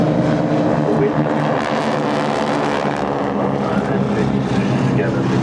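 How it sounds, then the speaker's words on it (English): Boeing Stearman biplane of the Breitling Wingwalkers at Farnborough Airshow 2012, its radial propeller engine droning loudly as it flies past, with a steady roar that swells and holds throughout. "Fly past, it's good for the photographs. Steerman, a very tough aircraft, very, very tough, great aircraft."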